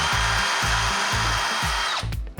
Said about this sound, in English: So I'm just going to drill a little hole, screw these in